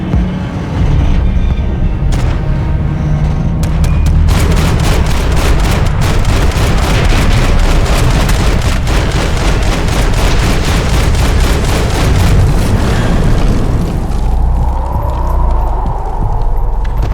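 Gunfire in Max Payne 3, a long rapid burst of loud automatic shots rattling for several seconds amid a dense, noisy game scene.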